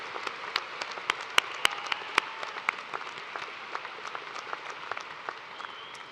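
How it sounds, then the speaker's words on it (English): An audience at a spring university commencement ceremony applauds, a broad wash of clapping with sharp individual claps standing out, gradually thinning and fading over several seconds. "Let's give a round of applause for everyone who helped make this celebration a special occasion to remember."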